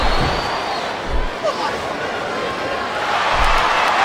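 Crowd noise in the PS2/Xbox wrestling game WWE SmackDown vs Raw 2007 at a Torrie Wilson vs Mickie James submission match, a loud steady roar of a large arena audience with rhythmic swells, a voice talking over it.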